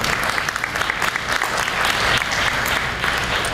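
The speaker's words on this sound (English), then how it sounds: "I think that's the loudest applause tonight" Audience applause at a spring community meeting, a dense sustained clapping from a crowd filling the room, loud and continuous without a break.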